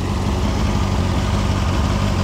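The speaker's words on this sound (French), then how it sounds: "on entend un petit peu le ronronnement du moteur" A Benda LFC700 motorcycle, completely stock with an unusual exhaust, idles at close range with a steady, low, even rumble that runs without a break.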